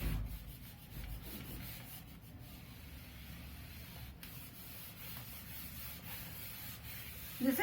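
Soft, continuous rubbing of writing off a classroom board, a faint steady swishing that runs for several seconds without talk.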